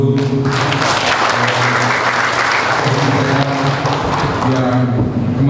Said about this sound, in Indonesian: Kami berikan aplaus dulu